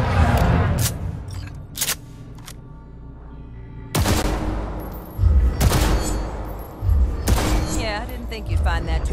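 Rapid gunfire rings out during tactical target practice in a video game, with bursts of loud, sharp shots separated by brief pauses, plus a voice speaking in between.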